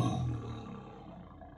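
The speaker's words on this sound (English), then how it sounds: "This is a tiger." A tiger roar plays from a Google Assistant device, one deep growling roar that starts loud and trails off over about a second and a half.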